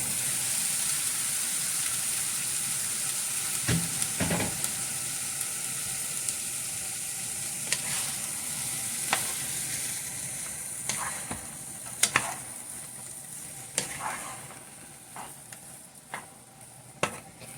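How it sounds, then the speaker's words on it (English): Onions, bell peppers and sausage frying in a skillet, a steady bright hiss of sizzling oil with occasional knocks and scrapes of stirring, close and continuous. "I'm going to go ahead and put those in and cook them until they are nice and soft and the sausage is browned"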